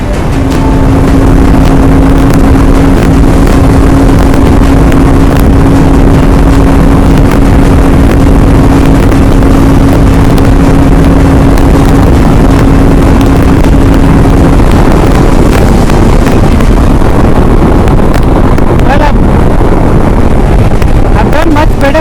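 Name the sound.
Honda Transalp motorcycle riding at speed in strong crosswinds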